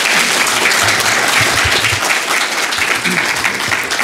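Loud, sustained audience applause fills a radio awards event, an even, continuous wash of clapping held throughout at close range.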